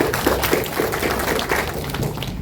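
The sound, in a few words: round of applause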